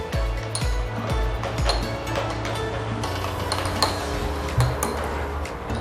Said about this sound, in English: Then use your teaspoon and give it a stir.